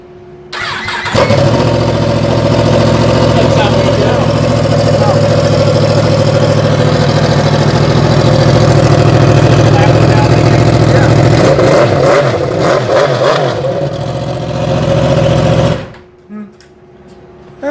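A Yamaha R1M motorcycle with its stock exhaust chopped off starts and holds a loud, raspy engine note for about fifteen seconds, with the revs rising and falling near the end before it cuts off abruptly.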